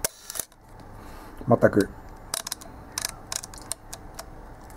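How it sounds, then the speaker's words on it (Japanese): A Leica M Monochrom digital rangefinder camera fires its shutter several times at different speeds, giving sharp mechanical clicks spaced irregularly across the moment, close and crisp, with a brief voice near the start. "こういった低速からですね、高速までしっかりと、シャッター切れておりますんで"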